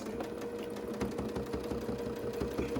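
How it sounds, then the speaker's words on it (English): A sewing machine runs steadily, its rapid mechanical stitching chatter repeating in a tight, even rhythm throughout. "then you just bring it back to the sewing machine"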